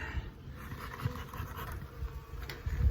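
Thick, continuous buzzing of a crowd of honey bees up close in a hive, droning steadily with a few low thumps underneath.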